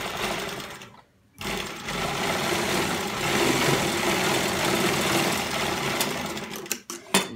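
A sewing machine runs steadily at close range, stitching an embroidered neck design along buckram with a continuous whirring buzz, broken by a short pause near the start and a few stops and restarts at the end.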